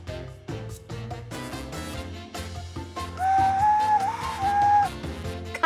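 A homemade paper flute plays a thin, wavering whistled tone over a busy musical backing, the note swelling louder for a couple of seconds near the end.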